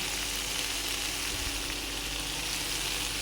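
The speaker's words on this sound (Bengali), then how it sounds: "এবার আমি দিয়ে দেবো পরিমাণ মতো জল।" Cauliflower and pea curry with homemade lentil dumplings sizzles steadily and close in a pan, a continuous even frying hiss through the whole stretch with no breaks.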